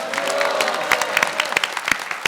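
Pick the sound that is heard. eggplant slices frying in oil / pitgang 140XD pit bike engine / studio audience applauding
studio audience applauding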